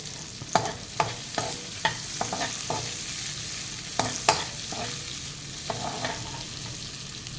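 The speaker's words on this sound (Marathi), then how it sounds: "त्याच्यामध्ये आता ही शिमला मिरची घालते आणि तीसुद्धा एखाद दोन मिनटं आपल्याला परतून घ्यायची आहे" Capsicum and onions fry in a pan for mushroom masala, a steady hiss of sizzling oil broken by a dozen or so sharp spatula scrapes and taps, close up with no talking.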